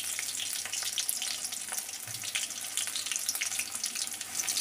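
Chicken pakora fries in hot oil with a steady, dense sizzle and crackle, close by and continuous throughout with no talking.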